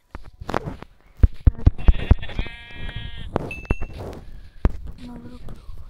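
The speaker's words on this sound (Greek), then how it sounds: "Προβατάκια." Sheep bleat a few times at moderate distance, their wavering cries mixed with thumps, footsteps and a person talking nearby.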